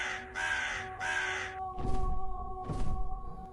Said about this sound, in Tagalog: napalitan ng huni ng uwak at may papalayong pagaspas na nanggagaling sa di kalayuan